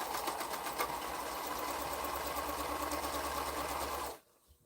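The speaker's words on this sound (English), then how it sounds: "I'm going to go ahead and sew that one" A sewing machine stitches steadily at close range with a fast, even mechanical whir and needle rhythm, running continuously and then stopping abruptly near the end, with no talking.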